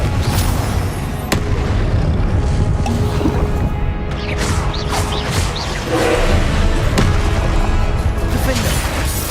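Confringo blasting-spell explosions in Hogwarts Legacy: a dense, continuous stretch of loud booms and crashing bursts, with sharp cracks that repeat irregularly through the barrage.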